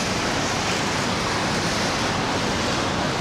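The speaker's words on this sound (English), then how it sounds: "The waves look very bad. I don't even think this is surfable." Constant roar of ocean surf crashing in rough pre-typhoon seas at Da Nang, Vietnam, a loud broad wash of noise with no distinct breaks or voices.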